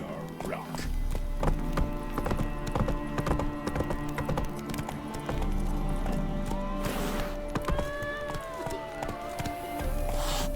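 Roach, the horse in The Witcher 3: Wild Hunt, gallops with a steady, fast clip-clop of hooves for about ten seconds, over game music and ambient effects, with a voice heard briefly.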